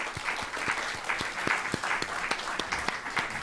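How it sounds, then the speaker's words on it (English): Audience applause at a panel event on food, agriculture and climate, a dense steady patter of many hands clapping at moderate distance, sustained throughout with no speech over it. "Please give them a round of applause."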